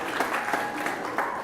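Applause for the committee at an evening literary feast event, a short stretch of steady crowd clapping with a few sharper individual claps standing out.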